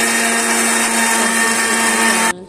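A mixer grinder whirring at high speed as it grinds fried dry fruits such as walnuts into powder, a loud, steady electric whine that cuts off abruptly at the end.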